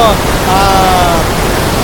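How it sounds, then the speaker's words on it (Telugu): Heavy water of the Ethipothala waterfall roars in a steady, loud, dense rush that fills the whole short stretch without a break, with a faint tonal trace over it. "చూసారు కదా వాటర్ ఫాల్ ఫ్లో ఎంత ఎక్కువ ఉందో"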